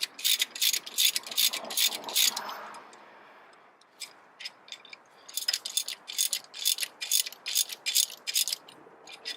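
Ratchet wrench clicking rapidly while loosening two 17mm brake caliper bolts on a car's front brakes, in bursts of fast ticking with a short pause between them, close and fairly clear.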